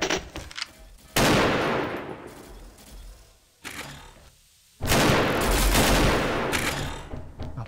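Bursts of AK rifle fire in the online shooter XSHOT's ghost mode, loud sustained automatic volleys broken by short pauses, with one brief burst between two long strings of fire.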